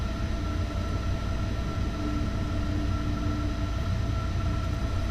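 A train rushing past in the video game Train Sim World 3, a steady loud rumbling roar with a continuous hum and no voices.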